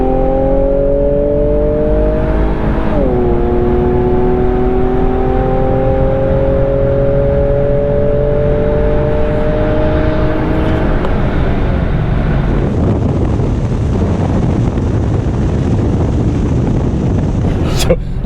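A 2019 Infiniti Q60 Red Sport accelerating on the road, engine tones rising steadily in pitch before easing off, heard from inside the cabin under constant wind and road rush, with a voice speaking briefly.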